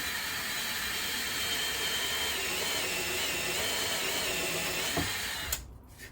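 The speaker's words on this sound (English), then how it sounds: "So I'm going to drill out the holes." A drill bores holes through a porthole cutting template for a narrowboat fit-out, a continuous close grinding whir that cuts off near the end.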